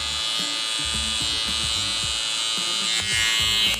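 A Panasonic electric hair clipper buzzes steadily and loudly while cutting a skin fade, its motor hum wavering slightly as the blade moves through the hair, with no talking.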